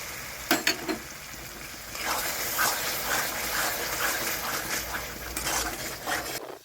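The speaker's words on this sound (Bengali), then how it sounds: "এখন আমি টমেটোটা দিয়ে দিচ্ছি" Chopped tomato tipped into a hot pan for mustard pabda fish, two quick clatters followed by a rising, uneven sizzle and bubbling that fades near the end, no voices.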